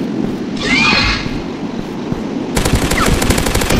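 A gunshot in a dinosaur hunting video game, with a sharp burst of rapid, loud shots arriving abruptly near the end after a quieter ambient stretch with an animal-like cry.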